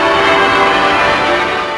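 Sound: Westminster Abbey church bells ringing

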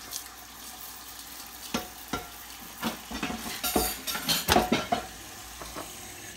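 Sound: zoodles and chopped onion frying in a pan

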